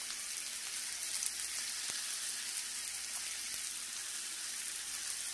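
Blackened chicken frying in a pan, a constant bright sizzle like light rain, with occasional faint pops and ticks and no talking.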